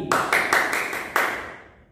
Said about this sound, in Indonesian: Coba kasih tepuk tangan kepada teman kita yaitu Andi.